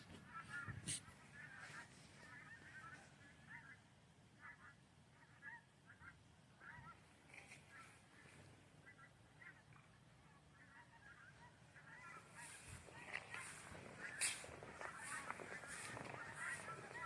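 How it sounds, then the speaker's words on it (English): Canada geese honk at a distance outdoors, faint scattered calls repeating through the clip and growing a bit louder and busier near the end over low ambient noise. "if you listen carefully, you might hear the Canadian geese"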